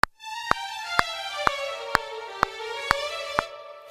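A smooth, sustained legato virtual instrument line glides between notes, playing noticeably behind a sharp metronome click that ticks evenly about twice a second underneath.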